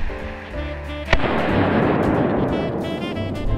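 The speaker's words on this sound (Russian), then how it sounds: "петарды цветные" A sharp crack bursts out from a colored firecracker, followed by a dense, sustained crackling and hissing spray of small pops that continues to the end.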